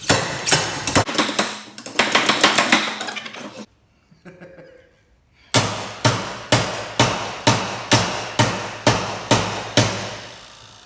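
Sharp metallic hammer blows on the pommel of an MTech MX-8130 knife ring out in quick bursts, a brief pause, then about a dozen evenly spaced strikes, loud and close.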